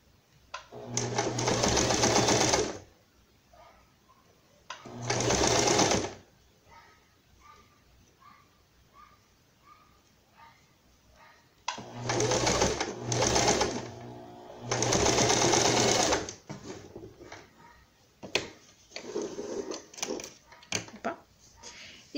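A sewing machine gathers fabric for a small pet jacket, running in several short bursts of rapid stitching separated by quiet pauses, with faint voices between runs.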